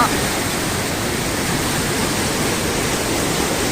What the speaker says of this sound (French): mais attention, dessous il y a l'eau